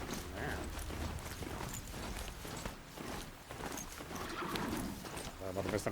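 In the Horizon Zero Dawn video game, horse hooves clip-clop in a busy rhythm alongside snorts and a whinny, layered with game sounds and someone talking over it.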